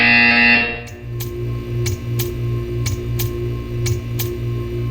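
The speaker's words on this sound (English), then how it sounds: "You will hear a buzzer." A harsh electronic buzzer from the video game Portal 2 follows a brief louder tone, then pulses in a regular rhythm of short repeated bursts, loud and close, with no talking.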